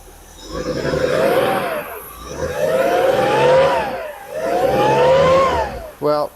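A 1976 Porsche 911 with a hard-starting fault cranks and turns over in three long, rising-and-falling whirring attempts, close and loud, ending with a brief burst of rapid ticking.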